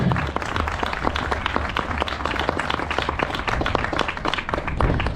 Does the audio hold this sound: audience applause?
yes